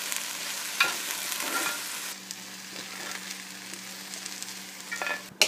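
Onions frying with salt in a pan for chili verde, a busy sizzle with scraping stirs early on that settles into a quieter steady fry, ending in a sharp clink.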